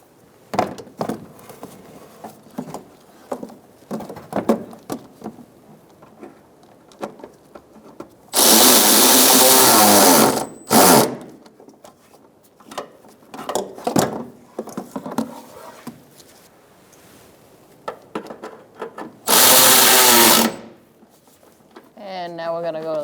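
A power tool tightens a nut onto a stud on a 2002-2006 Toyota Camry during a windshield washer reservoir replacement, with two loud sustained whirring bursts and a short third one while a person talks between them.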